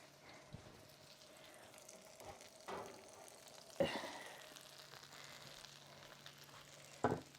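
Lancashire ham sizzling under a hot broiler, a quiet continuous fry with a few sharper pops and clanks of the tray standing out now and then.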